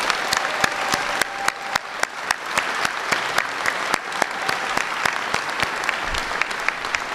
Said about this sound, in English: So would you give him a round of applause?